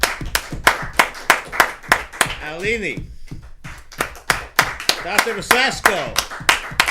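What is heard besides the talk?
round of applause, clapping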